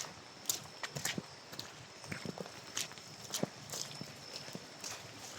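Horse hooves clip-clopping at a walk while the animal strains to haul a heavy load of gravel, a steady series of distinct hoof strikes, fairly close, over outdoor background noise.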